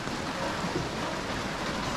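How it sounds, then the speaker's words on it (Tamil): Heavy rain falling in the Munnar hills, a dense, steady hiss of downpour with no breaks, even in loudness and filling the whole scene, no speech. "சரியான மழை. எங்கே பார்த்தாலும் மழை."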